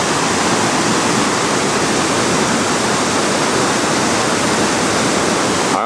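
Rushing water at a waterfall in a gorge near Bled, Slovenia, a loud, unbroken roar of churning water, close and constant throughout with no voices.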